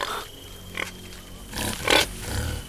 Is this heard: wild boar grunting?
yes